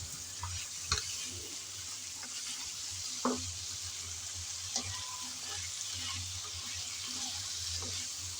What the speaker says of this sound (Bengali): পটলগুলো দিয়ে আলুর সাথে নেড়েচেড়ে ভালোভাবে ভেজে নেব।